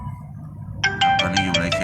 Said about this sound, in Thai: เขาโทรมา เรื่องงานนะครับ ไม่รับสายครับ